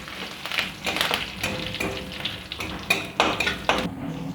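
Panch phoron spices and narasingha (curry) leaves stirred in hot oil in a pan for an Assamese pabho fish curry, with steady sizzling, scraping and utensil clinks close by, no voices.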